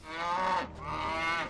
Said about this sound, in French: Bah, que fait cette vache ici?